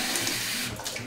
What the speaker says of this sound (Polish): dolewamy wody